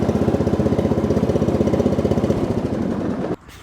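A Cub Cadet CC30H riding lawn mower engine runs loud and close with a fast, steady pulsing chug, then cuts off abruptly near the end, no talking.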